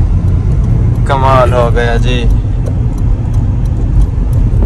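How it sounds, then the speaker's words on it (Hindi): A car engine at high speed on the road through Wadi Jinn near Madina, with steady loud engine and road noise running throughout while someone speaks briefly over it. "वादी जीन देखें कितनी स्पीड बढ़ गई है गाड़ी की"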